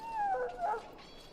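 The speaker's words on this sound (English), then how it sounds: "He growls weakly" A sick dog in Dragon Age: Origins gives a weak, strained growl that wavers into a whimpering whine, one short vocalization up close with no talk.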